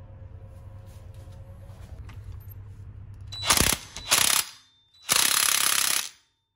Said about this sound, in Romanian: Strângem piulița de la planetară.